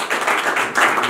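An audience applauds at a talk, a close, dense burst of clapping that swells briefly over just over a second.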